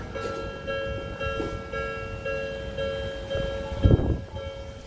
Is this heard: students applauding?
no